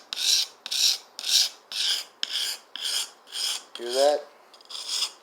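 A knife is sharpened in repeated steady strokes, about eight even rasping passes roughly half a second apart, close and fairly loud, with a brief spoken remark partway through.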